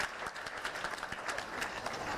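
A conference audience at a medical products regulation plenary applauds a panel, dense continuous clapping from many hands at moderate distance, steady throughout with no pauses.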